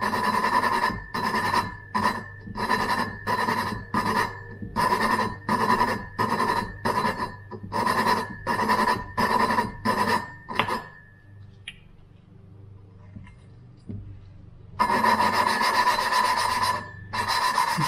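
Subaru Impreza 2.5L engine valve being lapped against its seat by twisting it back and forth, a loud rhythmic gritty rasp in quick repeated strokes that pauses briefly then resumes.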